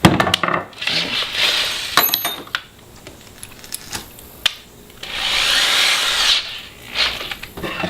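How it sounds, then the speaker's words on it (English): A power drill bores holes through wood for the nails of a homemade spiked trench club, with bursts of loud, rough whirring separated by brief pauses and handling clatter. "I'm going to start drilling some holes to put those nails through"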